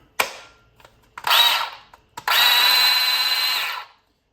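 A Black and Decker 10-inch 20V cordless chainsaw with a freshly replaced motor whirs through a short burst, then a longer steady run of about 1.7 seconds, loud and close, with no talking.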